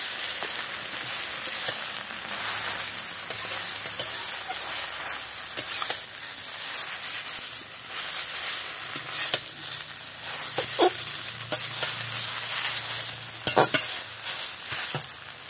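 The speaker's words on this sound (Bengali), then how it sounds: "এবার দিয়ে দেবো আমি এই কেটে রাখা শাকগুলো।" Chopped sour greens sizzle in hot oil with mustard seeds, a close, steady crackling hiss that runs for a long stretch, punctuated by occasional scrapes and taps of a spatula stirring; no talking.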